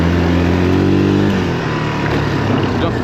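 A Yamaha 350 quad's engine revs hard while drifting on a forest trail, a loud, close buzzing drone that climbs and then settles into a rougher idle-like throb.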